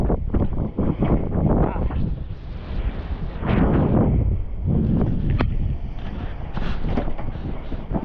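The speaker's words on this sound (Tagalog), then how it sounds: "Tulad kahapon, maalon pa rin ngayon." Strong wind buffets the microphone on a small boat in rough seas, with gusty rumbling roars and water surging around the hull, loud and close.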